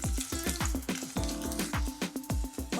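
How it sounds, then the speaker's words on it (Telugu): Three small onions frying in a pan with oil, a steady sizzle broken by repeated rhythmic clinks and scrapes of a spoon stirring them, close and fairly loud with no talking. "చిన్న సైజుది 3 ఆనియన్స్ వేసాను. అన్నీ వేసేసుకునేసి ఆనియన్స్ మొత్తం కొంచెం మెత్తపడాలి"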